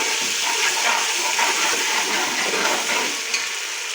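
Ginger garlic paste fries in hot oil with browned onions, a close, steady hissing sizzle with faint stirring scrapes, continuous throughout with no voices.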